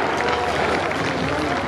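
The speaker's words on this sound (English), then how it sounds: "let's have a round of applause for all the teams that come out" Steady, dense round of applause from a crowd honouring competing teams at a Yorkshire 2023 heat, continuous and fairly loud with no clear voice on top.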